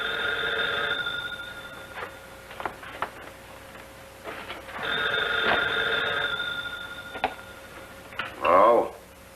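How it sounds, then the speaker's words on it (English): A telephone bell rings in a 1941 radio crime drama, two long bright bursts separated by a pause, with a few clicks and knocks between them and a short voice near the end. "Why don't you answer your phone?"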